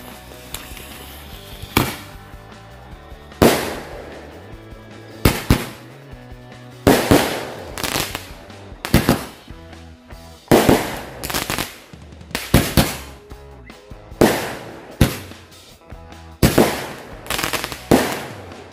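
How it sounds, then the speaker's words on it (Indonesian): Two five-shot Roman candles fire during a night festival celebration, a steady series of sharp popping launches and booming bursts at a regular rhythm, loud and outdoors, with no talk. "Untuk pembukaannya kita nyalakan 2 buah mercon Roman Candle yang 5 shoot sekaligus."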